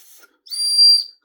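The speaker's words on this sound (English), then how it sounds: "a whistle" A whistle built into a Spitzkante gut hook knife gives one shrill, steady blast of about half a second, close and loud, after a brief faint lead-in.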